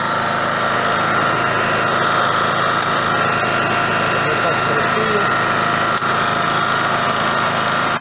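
A Werk WPG 3600 petrol generator engine runs steadily and loudly at a constant rhythmic idle, with a buzzing drone that fills the whole stretch.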